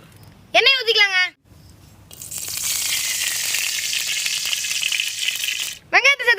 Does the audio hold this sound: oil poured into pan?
yes